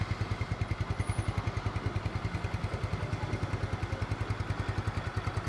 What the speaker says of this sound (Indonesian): Tapi ini untuk mesin umur 10 tahun, ini suaranya masih halus banget